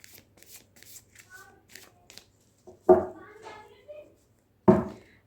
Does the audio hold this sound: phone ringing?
no